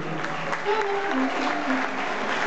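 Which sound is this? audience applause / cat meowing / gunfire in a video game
audience applause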